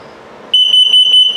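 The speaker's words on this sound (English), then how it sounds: "It'll test once for LP leak, once for carbon monoxide, and it beeps very slowly." A shrill, piercing carbon monoxide detector self-test alarm in a 2021 Mesa Ridge 376FBH travel trailer starts abruptly and pulses in rapid, evenly spaced beeps, loud and close, after a quiet hum.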